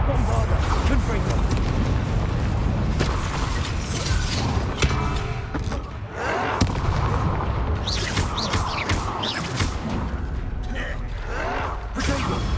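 Bombarda and Confringo spell blasts go off in a Hogwarts Legacy fight, loud booms and crackling impacts with creaking, mechanical clatter throughout, while a voice talks over the action.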